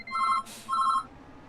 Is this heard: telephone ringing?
yes